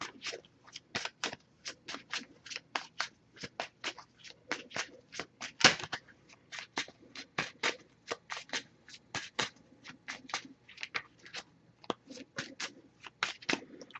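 A deck of oracle cards is shuffled repeatedly, with quick riffling bursts in a steady rhythm, close and fairly quiet.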